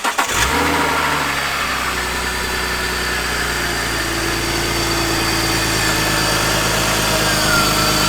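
BMW E46 engine cranks and catches right at the start, then settles into a steady, loud, even idle after a radiator and cooling system overhaul, close by with no talk.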